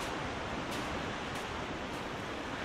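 Waterfall in the video game The Long Dark, Pleasant Valley: a steady, dense broadband rush of falling water with no talk, holding constant in level throughout.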